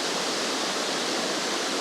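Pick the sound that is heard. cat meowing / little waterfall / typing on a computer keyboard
little waterfall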